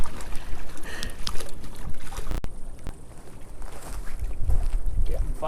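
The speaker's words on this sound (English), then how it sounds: "it's really windy" Strong wind buffets the microphone at South Lake near Bishop, California, during a fishing outing, with rumbling gusts and lapping water close by; no speech.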